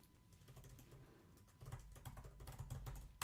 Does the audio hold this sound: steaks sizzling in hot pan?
no